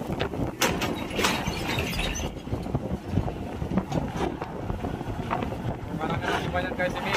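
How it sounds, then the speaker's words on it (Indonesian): Strong wind buffets the microphone at Merak harbour, a steady roaring gust noise with boat and water sounds mixed in, while people talk over it throughout. "kita kedorong-dorong angin ya, anginnya kencang."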